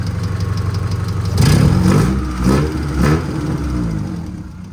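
A car engine runs steadily with a low, knocking idle, then revs up in three or four rising bursts before settling back to idle, loud and close with no talking.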